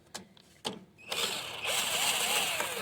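A socket ratchet loosening 10mm bolts on a Kohler engine gives two sharp clicks, then a quick run of ratcheting that grows into a steady mechanical whir, close and moderately loud.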